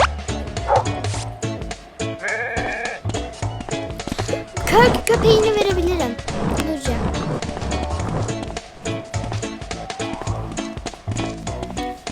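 A dog barks and yips repeatedly nearby, with whimpers mixed in, over a busy background of voices and movement.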